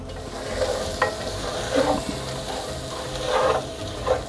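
Jerk seasoning and curry powder sauté with bay leaves in a pan for jollof rice, a close, continuous sizzle with recurring scraping stirs and no talking.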